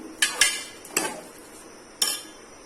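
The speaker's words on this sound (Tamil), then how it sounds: "இத இந்த மசாலா நல்லா சேர்றது மாதிரி ஃபர்ஸ்ட் லைட்டா வதக்கி விட்டுறலாம்" Meal maker chunks are stirred and sautéed in masala in a pan: a few sharp metal clinks and scrapes of a spoon, spaced irregularly, close and fairly quiet, with no voices.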